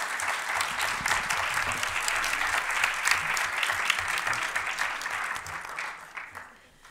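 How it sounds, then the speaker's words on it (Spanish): Audience applause at a book presentation during the Guadalajara book fair: dense, steady clapping from a crowd indoors for about six seconds, then thinning and fading out at the end. "Mónica Broson y Jaime Alfonso Sandoval, para quien por favor pedimos un fuerte aplauso."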